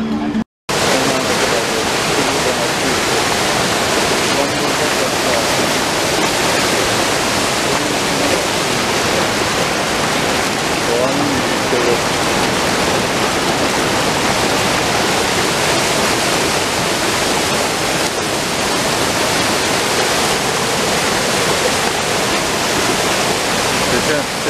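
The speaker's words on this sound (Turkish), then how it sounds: "Bir bakalım akan şelaleye." Düden Waterfall in Antalya pours in a steady, loud roar of falling water, a dense, unbroken rush that fills the whole span close by.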